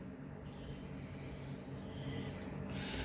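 Quiet, steady rubbing and rasping comes from finishing strokes of a 440C steel knife blade on a sharpening stone, a soft continuous scrape with slight breaks between passes.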